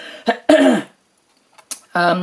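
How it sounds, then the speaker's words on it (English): A couple of sharp coughs and throat clearing, close and loud, separated by brief silence, followed by the start of a voice. "Excuse me, I'm going to cough."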